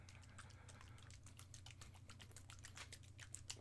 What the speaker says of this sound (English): Bad typing.